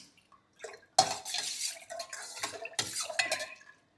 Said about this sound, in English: Now you have to mix it properly.